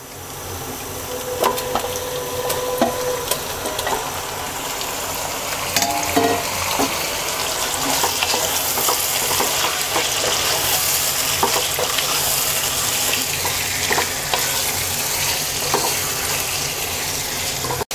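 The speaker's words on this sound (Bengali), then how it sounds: "এবার মাংসটাকে পেঁয়াজের সাথে 5 মিনিট ভেজে নেব।" Meat and onion frying together in a pan, a continuous close sizzle that thickens over the stretch, broken by utensil knocks and stirring scrapes, no voices.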